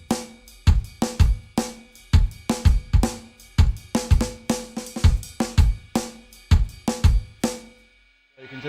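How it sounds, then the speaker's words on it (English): Ride cymbal in a jungle drum and bass kit pattern, struck in steady quarter notes at shifting loudness, each hit layered over punchy kick and snare, close and busy, ending in a short silence. "the different sort of dynamics on the ride"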